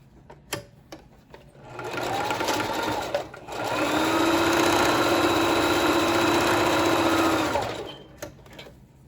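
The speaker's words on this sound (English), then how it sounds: "And then do another straight stitch across." Sewing machine running a straight stitch across stretchy slingshot exotic wear top fabric: a short whirring burst, a brief pause, then a longer steady buzzing run, close and loud, with no talking.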